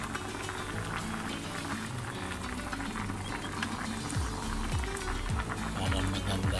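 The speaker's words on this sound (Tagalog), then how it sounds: "Hayaan lang natin siyang kumulo." A pot of sinigang pork rib soup bubbles at a steady boil, with dense burbling and soft popping that continues throughout, fairly close and moderately loud.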